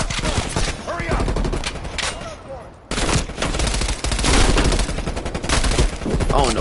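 Dense gunfire from the Call of Duty Cold War campaign mission Nowhere Left to Run, sustained loud automatic bursts filling the whole stretch with only a brief dip in the middle.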